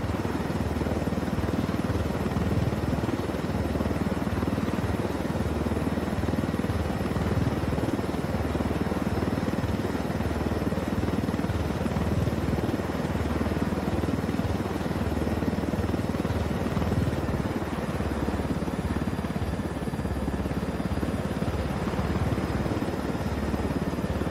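Steady, continuous helicopter rotor and engine drone from the video game Ghost Recon Wildlands, holding at an even loud level for the whole stretch with no talk over it.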